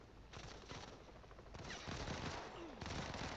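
Rapid machine-gun bursts in the video game Modern Combat 5, dense repeated shots in several strings over a continuous battle background, heard quietly.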